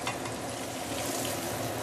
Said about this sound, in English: Deep fry this for using a low medium heat